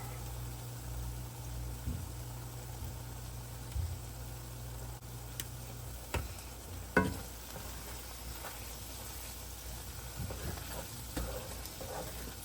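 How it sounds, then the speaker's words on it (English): Peppers and onions seasoned with Tony Chachere's and black pepper sizzle steadily in a pan while being stirred, with scattered soft scrapes and taps of the utensil over a constant frying hiss. "Get that all mixed up in there so them spices can meld with the peppers and the onions."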